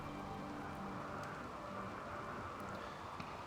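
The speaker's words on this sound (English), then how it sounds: "Here comes the rain again, which in this case I am not going to complain about." Steady rain falls in The Rim of Time video game, a soft even hiss that holds at low level throughout with no voices.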